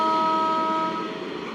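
Alstom MEMU electric train on its first run, sounding a loud, sustained two-tone horn up close that holds steady for over a second, then fades as the train accelerates away under rumbling track noise.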